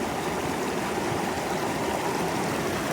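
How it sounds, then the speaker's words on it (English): A mountain creek in a Colorado canyon rushes loudly and continuously, a dense, close, unbroken roar of fast-flowing water with no voices. "I'm trying to talk a little loud because this water is rushing really loud"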